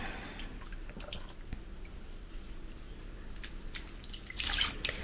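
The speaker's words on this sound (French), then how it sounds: "On l'égoutte. Et on la met à tremper dans la bassine." Freshly dyed wool is lifted from its heating dish and drained. Faint drips and a soft trickle of water fall steadily through a quiet room, with a slightly louder splash of water near the end.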